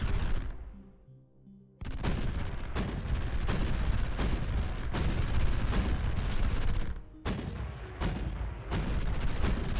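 Space battleship cannons firing in the game Sublight, dense rapid bursts of gunfire-like blasts nearly nonstop, with a couple of brief lulls, loud and close.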